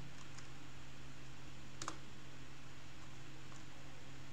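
A few sparse clicks of keys on a cheap computer keyboard, one sharper tap standing out over a steady background hum.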